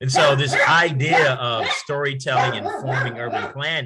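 Dogs bark in a home during an online conference talk on storytelling and urban planning in Oakland, the yips and woofs buried under a man's continuous speech.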